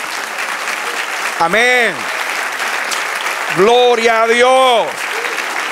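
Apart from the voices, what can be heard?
congregation applause for the Lord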